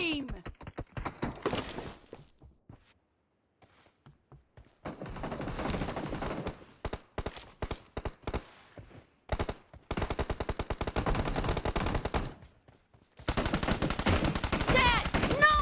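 Rapid automatic gunfire from a BGMI team deathmatch game, long loud bursts with short pauses between them, close and dominant, with game voice announcements mixed in.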